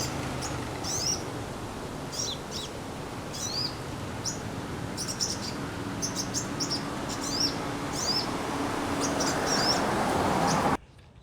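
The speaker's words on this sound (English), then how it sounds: "And lots of house crows." Small birds, likely olive-backed sunbirds, give thin, high, brief chirps at scattered intervals over steady outdoor noise at a retention pond in Kuala Lumpur, Malaysia.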